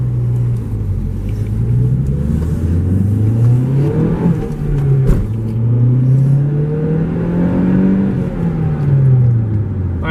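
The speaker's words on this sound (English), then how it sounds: "So we'll give it another acceleration clip here." A turbocharged 2013 Mazda Speed 3 accelerates hard on the road, its engine note rising and falling through several climbs, loud and close throughout with no talking.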